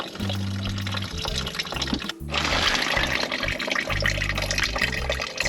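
Old coolant gushing out of a Lexus SC430 cooling system during a flush, a continuous splashing, pouring flow of liquid with gurgling variations, loud and close throughout.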